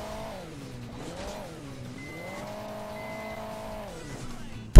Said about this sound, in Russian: Просто, ребята, броневик едет какой-то.